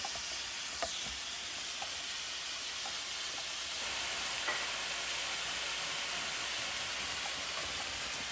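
Onions brown in a pan for eggless shakshuka, a steady hissing sizzle that grows slightly louder partway through, with a few soft stirring knocks and no talking.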